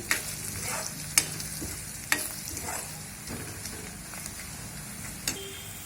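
Ginger-garlic paste with red chilli and meat masala fries in oil in a pan, giving a steady sizzle broken by a few sharp clinks and scrapes of stirring.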